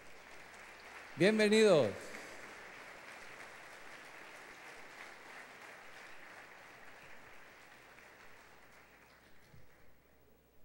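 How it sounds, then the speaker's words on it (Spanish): Congregation applause at a church service, a steady wash of clapping spread through the room at moderate level, with a loud spoken greeting near the start and then fading gradually toward the end. "Otro aplauso para ellos."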